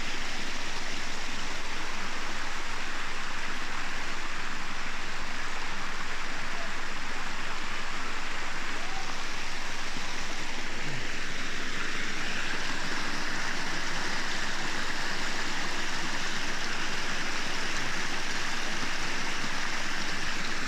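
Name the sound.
waterfall and flowing stream in Lebanon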